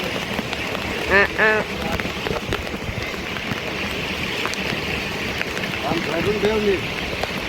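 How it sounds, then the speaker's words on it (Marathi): Heavy rain pours in a steady, dense hiss, with a few brief voices rising over it. "गाय जिथं लय पाऊस पडतोय बेकारवाला"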